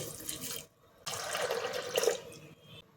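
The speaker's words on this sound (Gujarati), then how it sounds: "એની અંદર દોઢ ગ્લાસ જેટલું પાણી નાખીશું" Water runs into a pressure cooker holding peas, in two short splashing bursts with a brief gap between them, heard up close.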